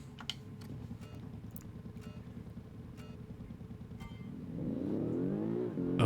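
A boxer-engined car, the engine mounted in the back, drives in the BeamNG.drive game, a steady buzzing drone that climbs into a rising rev toward the end, loud and close with no talk.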